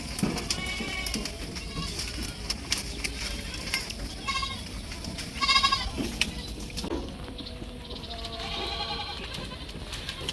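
Goats bleat repeatedly while feeding at a shared food trough on a farm, with several calls rising over steady background noise and rustling.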